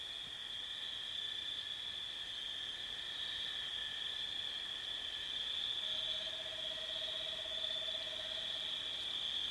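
An owl hoots faintly at night in the wild against a steady, dense chorus of insects and frogs, with one soft drawn-out call standing out.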